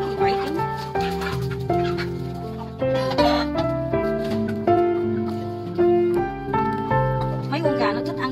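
Chickens cluck and squawk repeatedly nearby, several birds calling over one another, with a person talking throughout.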